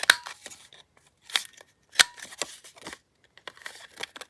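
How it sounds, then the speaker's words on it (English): Scissors snipping the little corners off paper tags, a few crisp separate cuts with short rustles and quiet gaps between them, close by. "Cut the little corners again."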